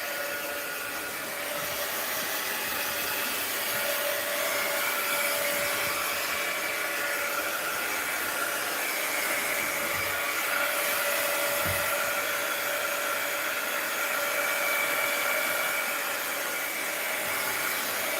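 A handheld dryer blows hot air over wet paint on a mixed-media art journal page, giving a continuous, fairly loud whirring rush that holds steady for about eighteen seconds with no talking.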